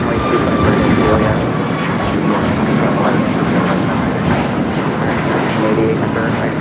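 A jet airliner takes off from runway 25 Right at LAX, a loud, steady engine roar filling the whole stretch with broadband rumble and no pause.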